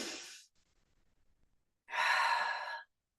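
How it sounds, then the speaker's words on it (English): A deep inhalation during a guided breathing exercise, followed by a long, loud airy breath lasting about a second after a quiet pause, heard close up with no talking. "Breathing in."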